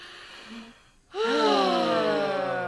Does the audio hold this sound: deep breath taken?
yes